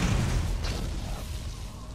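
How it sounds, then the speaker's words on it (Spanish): An electric explosion in the video game Borderlands: a loud, booming burst with a rumbling low-end tail that fades over about two seconds. "Eso ha sonado a explosión eléctrica."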